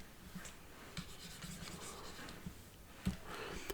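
Faint, continuous scratchy rubbing as writing is wiped off a board during a math lesson, with a few soft taps, quiet and close with no talk.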